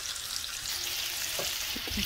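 Shrimp frying in a sauce in a pan, a steady close bubbling sizzle throughout with a few soft clinks and stirring touches toward the end.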